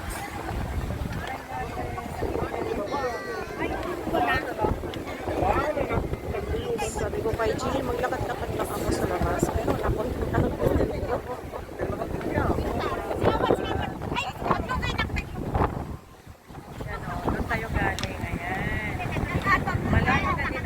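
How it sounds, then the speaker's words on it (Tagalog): Strong wind at the sea along the Sabang boardwalk in Ilocos Sur, a steady roaring buffet against the microphone with waves and movement underneath, with people talking throughout over the blustery noise. "Ang lakas ng hangin."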